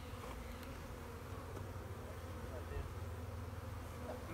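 Honeybees at a hive in North Seattle hum in a steady, faint swarm buzz, with a quiet voice briefly in the background.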